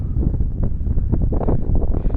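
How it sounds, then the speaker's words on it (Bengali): Strong wind buffets the microphone on top of an observation tower in a border area, a loud, continuous low roar with gusty surges and no speech. "কিন্তু প্রচুর বাতাস"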